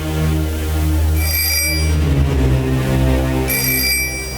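A telephone rings unanswered, loud and close, its bright electronic trills coming in two separate bursts over a steady low hum, with no one picking up.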